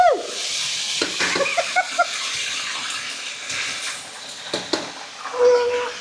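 A steady hiss of oil deep-frying ayam gepuk, with crackles and spits scattered throughout and a brief higher tone near the end.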